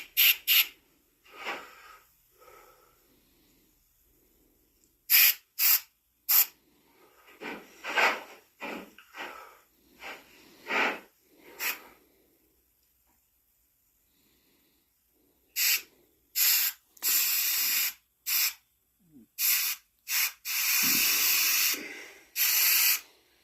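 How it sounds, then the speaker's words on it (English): An airbrush spraying paint onto the eyes of a mounted black-phase coyote, heard as short, sharp hissing bursts of varying length separated by pauses, close and fairly loud, with no talking. "I kind of like a little bit using the airbrush better on the eyes"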